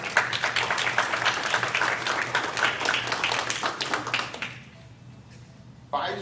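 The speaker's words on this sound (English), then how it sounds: "Give a round of applause." Audience at a school district board meeting applauding, a dense burst of claps lasting several seconds before thinning out, then a brief sound at the end.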